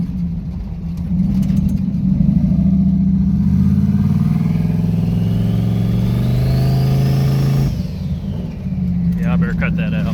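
A turbocharged 5.3-liter engine car running on E85 cruises along with a loud, close engine drone. The pitch climbs under acceleration, drops off as the throttle is lifted, then picks up again, and a voice speaks over it.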